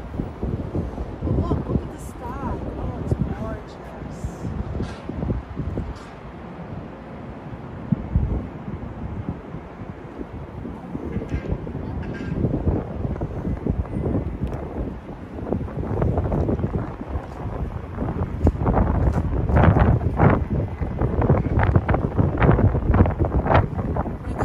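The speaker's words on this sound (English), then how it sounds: "Oh, it's a little windy." Strong wind gusting across the microphone on the elevated High Line park beside a train yard, a steady rushing roar that builds louder toward the end, with people talking throughout.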